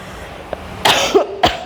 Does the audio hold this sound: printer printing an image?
no